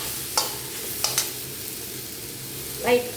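Bitter gourd sautés in a pan over a medium flame with a soft, even sizzle, broken by three brief spatula scrapes, the last a little longer.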